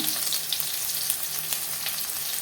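Ginger garlic paste and onions sautéing in hot oil, a close, continuous bright sizzle with faint stirring ticks throughout.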